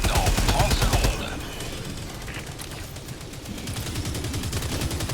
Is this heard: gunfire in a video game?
yes